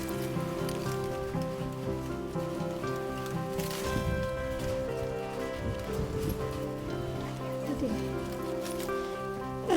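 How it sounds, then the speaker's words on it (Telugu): Heavy rain falls in a constant, close patter on surfaces, partly masked by voices talking over it. "అయ్యో ఏం వాన ఇది!"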